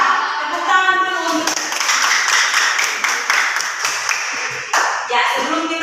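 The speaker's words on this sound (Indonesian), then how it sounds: "Tepuk tangan dulu" A school class clapping hands together in a classroom, a dense burst of claps lasting a few seconds with children's voices over it before and after.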